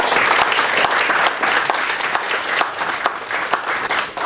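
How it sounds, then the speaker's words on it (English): A large audience applauds speakers at the end of a conference session: dense, steady clapping throughout, loud and close, with no speech over it. "Let's give them all another round of applause."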